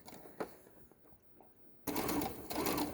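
A sewing machine stitches through a thick tote bag handle, starting suddenly after quiet handling noises and running at a fast, steady mechanical rattle, close and loud.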